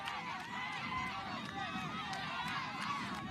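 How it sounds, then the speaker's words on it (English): Gona's sideline cheer squad shouts and cheers steadily at a mixed ultimate frisbee match against Chinese Taipei, a continuous crowd of voices with overlapping calls under a commentator's talk. "You can hear, so the Gona sideline cheer squad right there"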